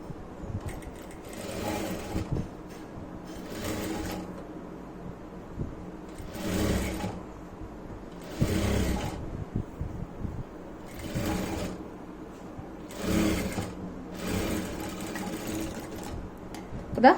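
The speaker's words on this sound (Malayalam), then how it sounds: "ഇങ്ങനെ വെച്ച് നല്ല വശത്ത് നെക്ക് നമുക്ക് സ്റ്റിച്ച് ചെയ്ത് എടുക്കാം" A sewing machine stitches the neckline of a churidar in repeated bursts of close, rapid whirring, a few seconds each and separated by short pauses.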